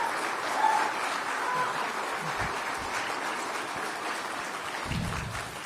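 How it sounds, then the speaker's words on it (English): A large audience at an Economic Club of Chicago event gives a standing ovation for Trump, a sustained dense roar of clapping that stays loud throughout with faint voices and cheers mixed in. "Standing ovation."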